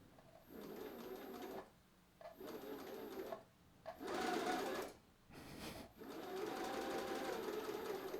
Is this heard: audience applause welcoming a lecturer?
no